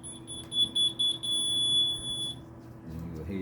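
NxStage cycler alarm sounding during a battery test, a string of close, loud high-pitched beeps running for about two seconds, then falling quiet over low background hum.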